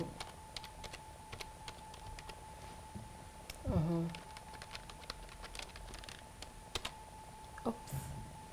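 Fingers type on a computer keyboard in uneven bursts of light clicks and taps, fairly close, with faint voices murmuring in the background.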